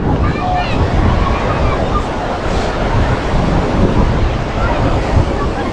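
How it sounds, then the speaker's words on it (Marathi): High-tide surf surging up a private beach on the Konkan coast, a steady loud wash of breaking waves with strong wind buffeting the microphone throughout, no voices over it. "हाय टाईड आहे, पाणी जोरात येते त्यामुळे परत मागे पळत येते."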